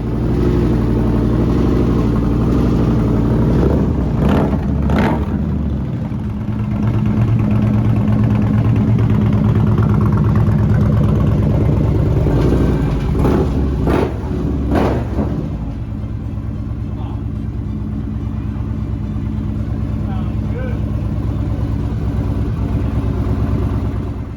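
Engine of a 2015 Victory Cross Country motorcycle fitted with Lloydz 505 cams, a Power Commander 5 and an air cleaner, running close by with a steady loud idle rumble, a few sharp blips around five and fifteen seconds.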